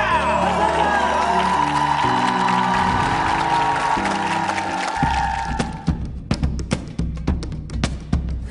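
Stage music plays on a Korean TV variety show and then cuts off, giving way to a studio audience clapping in sharp, scattered bursts.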